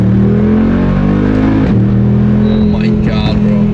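A car engine revs hard as it accelerates in first gear, a loud, close roar that climbs and dips over a few seconds with a voice faintly underneath.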